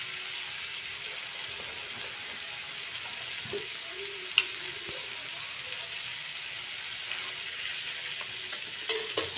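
Butter and a little oil sizzle in a pan for a pav bhaji tempering, a soft, even hiss held steady throughout with a few faint clicks of utensils.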